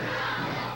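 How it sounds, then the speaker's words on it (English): A wrestling arena crowd at a Georgia CWF classic match roars in a dense, continuous wash of voices, steady and loud throughout with no single speaker standing out. "you can hear the crowd picking up the chant"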